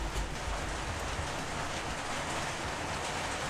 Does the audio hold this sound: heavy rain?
yes